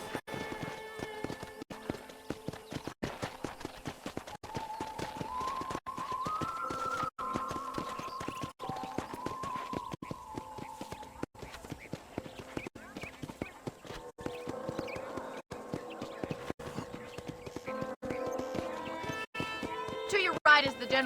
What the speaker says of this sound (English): I picked out a fine horse for you. Come on, boy.